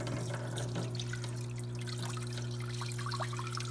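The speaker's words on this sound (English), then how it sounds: "So I'm running it in the parts washer." Parts washer running while cleaning a greasy Jaguar E-type differential, a faint steady trickle and splash of solvent over a constant low motor hum, continuous and unbroken throughout.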